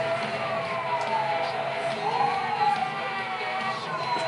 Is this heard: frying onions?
no